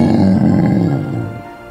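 Gorilla sound effect from a video game's animal sound list: a loud, low growling roar held for nearly two seconds, fading slightly toward the end, with no talking.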